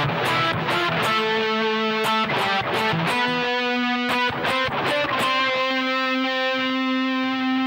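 Distorted rock electric guitar playing an octave solo section, a quick run of bright picked notes settling into longer sustained tones, loud and close with no talk.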